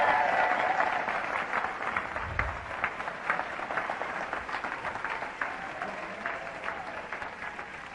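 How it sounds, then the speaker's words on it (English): An audience claps steadily for several seconds, a full crackling applause that slowly tapers off without any talking. "Give her a round of applause."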